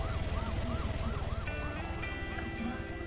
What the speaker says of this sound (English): Let me turn my sirens off.